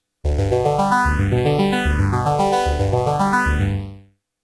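A Microkorg synthesizer's arpeggiator in up mode plays rapid repeating notes that climb upward in steady sequence, bright and sustained, then the sound fades out.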